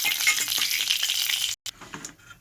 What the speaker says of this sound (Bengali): তো জিরে ফোড়ন দিয়ে দেওয়া হলো।